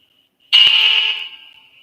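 A phone rings once: a sudden bright electronic tone starts, holds steady for under a second and fades away, close and loud with quiet before it.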